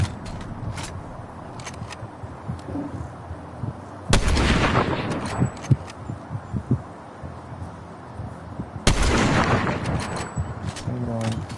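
Two sudden loud broadband bursts of gunfire in Fortnite, about four seconds apart, each decaying over a second or so, over a steady bed of game noise and background sound.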